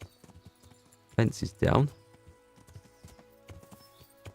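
A horse in the medieval video game Kingdom Come: Deliverance clip-clops along in a steady rhythm of soft hoofbeats while a voice briefly speaks over it.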